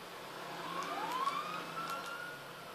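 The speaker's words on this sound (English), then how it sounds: "Alright, I can hear an ambulance." A distant ambulance siren in a police video game wails faintly, its pitch rising and falling over a low background hum.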